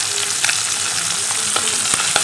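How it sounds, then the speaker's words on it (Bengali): Small puti fish frying in oil in a pan for a Bengali mourola fish recipe, a steady close hiss of sizzling with occasional pops and light clatter, no voices. "এটা কিন্তু পুঁটি মাছটাই ভাজা হচ্ছে।"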